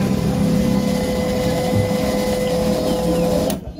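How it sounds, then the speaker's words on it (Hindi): An HP LaserJet 1005 printer, freshly cleaned and greased, runs with a steady, loud mechanical whir and a fixed tone, then cuts off abruptly near the end. "काफ़ी स्मूथली ये प्रिंटर चालू हो रहा है।"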